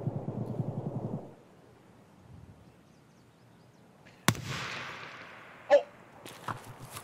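A grenade explodes in the video game Escape from Tarkov: after brief talk, a sharp, loud blast bursts out and rumbles off in a hissing tail, followed by a quicker pop and a few fainter cracks.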